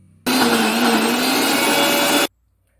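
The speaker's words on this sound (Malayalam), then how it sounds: "ഉഴുന്നും തേങ്ങയും എല്ലാം കൂടെ നന്നായിട്ട് അരച്ചെടുക്കുക" A mixer grinder blends urad dal, coconut and small onions into batter, a loud, close, steady motor whir lasting about two seconds that starts and stops abruptly.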